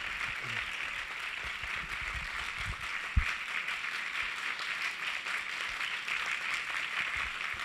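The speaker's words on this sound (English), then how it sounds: "Let's give them another round of applause." Audience applause fills a hall after a devotional drama performance at an evening gathering, a steady, sustained wash of many hands clapping with one sharper knock partway through.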